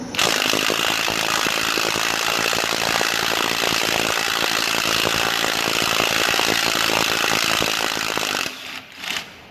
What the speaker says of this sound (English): You can take this nut off right here. Use an impact gun on it.